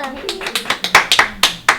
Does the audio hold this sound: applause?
yes